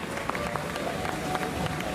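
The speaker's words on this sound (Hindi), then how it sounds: "तो एक बार मिस्टर राजवीर सिंह जी के लिए भी जोरदार तालियां हो जाए" Loud applause from an event audience welcoming Mr. Rajveer Singh on stage, a dense, steady wash of many hands clapping with crowd noise throughout.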